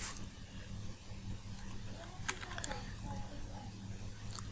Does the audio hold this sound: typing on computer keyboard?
yes